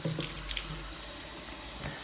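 Water steadily trickles and runs from a leaking farm water trough in cold weather, a continuous close splashing flow with no voices.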